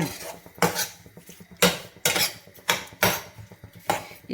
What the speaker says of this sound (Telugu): ఇలాగా చక్కెర మీదకి ఇదంతా దగ్గర పడేదాకా కలుపుతూ ఉండాలన్నమాట